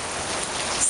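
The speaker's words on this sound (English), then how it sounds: "Yep, it's still hailing." Hail falling during a thunderstorm, stones shrunk from quarter size down to pea size, makes a steady, dense patter close by, like heavy rain pelting a surface, with no voices.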